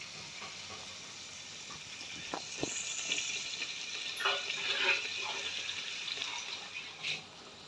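Water is poured into a cooking pot of black chickpeas for a curry, giving a steady splashing, bubbling pour that swells midway and then tapers off, close by and moderately loud.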